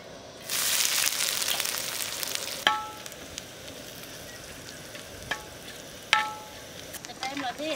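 Chopped onions hit a hot pan with a loud burst of sizzling that settles into steady frying, broken by a few clinks of a utensil against the pan.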